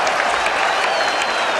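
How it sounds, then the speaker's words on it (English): Standing applause from a crowd all round the ground at a 1980 Australian football match between St Kilda and Essendon, a dense sustained roar of clapping and cheering that stays loud and steady throughout. "Standing applause all round the ground"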